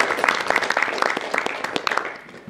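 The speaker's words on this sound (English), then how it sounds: "I think you should all give yourself a big round of applause." An audience at a political address claps in a short burst of applause, individual hand claps audible close by, tapering off within a couple of seconds.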